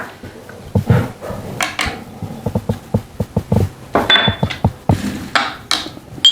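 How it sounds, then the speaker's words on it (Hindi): Yogurt marinade with garlic, ginger and oregano is stirred in a bowl, with a spoon clinking and scraping against the sides in a quick, uneven rhythm, close and fairly loud, with no speech. "हमने दही में ये तमाम चीज़ें जो है ये इंग्रेडिएंट्स ऐड करने हैं और इसको अच्छा सा हमने मिक्स करना है"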